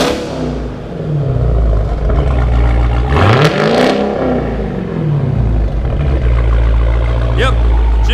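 A loud Dodge Hellcat engine revs up and down a couple of times through a quad-tip exhaust, a deep rumbling exhaust sweeping in pitch, with faint voices in the background.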